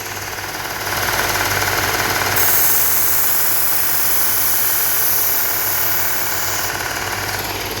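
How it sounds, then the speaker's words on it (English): Belt sander grinding steadily as a knife is sharpened on the sanding belt, a continuous loud motor whine with abrasive hiss that swells slightly as the blade meets the belt. "So first, the sanding belt."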